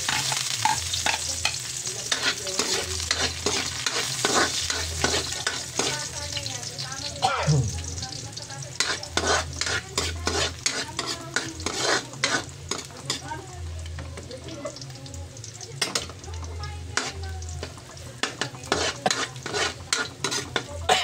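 Garlic sautéing in hot oil in a pan for a home-cooked pork menudo, a loud continuous sizzle with frequent clatters and scrapes of a utensil stirring against the pan, close up, no talking.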